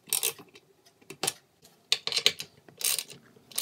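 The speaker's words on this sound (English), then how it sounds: "tighten the anchor bolt nuts evenly, going back and forth from one side to the other side" A ratchet tightens the anchor bolt nuts on a toilet being set on the floor, heard as short irregular bursts of close, crisp clicking with brief pauses between strokes.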